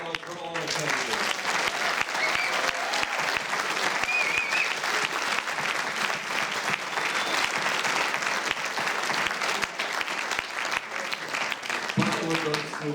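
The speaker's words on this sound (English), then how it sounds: "Let's give a big round of applause for all the candidates." A crowd at a 2019 federal election all-candidates forum in Ottawa-West-Nepean applauds the candidates, sustained dense clapping from a roomful of people that runs for many seconds before a voice resumes at the end.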